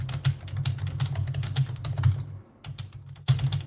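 Close computer keyboard typing in quick irregular bursts of key taps, with a short pause midway before the tapping resumes, heard alone without talk.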